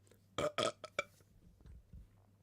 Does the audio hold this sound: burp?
yes